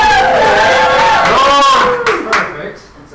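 A studio audience at a radio broadcast cheers loudly on cue, with a burst of whoops, shouts and some clapping that fades out over a few seconds.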